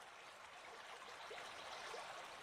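Soft, steady rush of a calm river flowing past, a faint even trickle and gurgle with no voices, continuous from start to finish.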